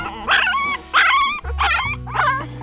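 Phu Quoc dog puppies about two weeks old whimper and yip in four drawn-out, wavering cries, close and fairly loud, with a low rumble in the background.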